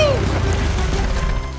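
A cartoon boat pulls up to a desert island, a short descending whistle over a steady low rumble and watery churning, loud and close throughout.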